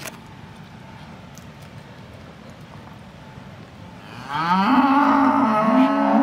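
A bull on a farm lets out a long, loud, deep moo that starts partway through, rising over a steady background of low outdoor noise.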